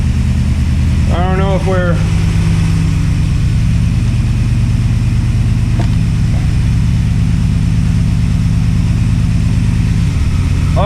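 A 1979-era International Scout engine, freshly rebuilt carburetor, runs steadily as the truck pulls away in first gear, a loud constant drone throughout with brief talk over it.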